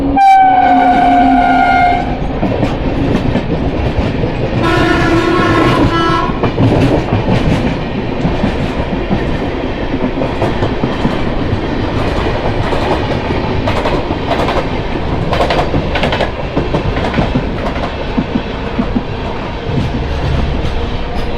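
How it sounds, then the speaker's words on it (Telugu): Express train 17314 from Chennai Central to Hubli passes close by. A loud horn blast opens, followed by a heavy, continuous rumble and rhythmic wheel clatter. "ఎంజిఆర్ చెన్నై సెంట్రల్ నుంచి హుబ్లీ వరకు వెళ్ళే ఎక్స్ప్రెస్ ట్రైన్."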